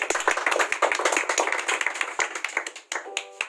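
An audience claps loudly at an event in India honoring a child, a dense, fast burst of many hands close by that thins out toward the end.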